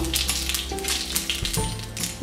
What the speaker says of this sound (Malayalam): ഞാൻ എണ്ണ ചൂടാക്കിയിട്ടുണ്ട് നമുക്കതിലേക്ക് കടുവ് ഇട്ട് കൊടുക്കാം